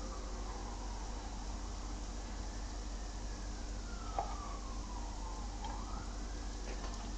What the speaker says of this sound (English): if you guys can hear all of the Baltimore symphony of sirens in the background